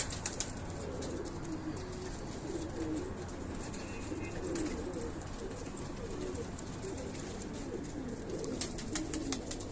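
A male Shirazi pigeon coos in a loft, a steady low murmur of repeated calls that runs throughout with a soft hum underneath and occasional wing flutters.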